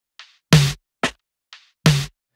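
A snare drum run through Thermal saturation on a club clipper setting gives two loud, thick, rounded hits, each preceded by a softer, thinner tap, in a slow alternating pattern with no voices.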